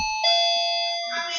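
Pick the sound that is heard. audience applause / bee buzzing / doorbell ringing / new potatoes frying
doorbell ringing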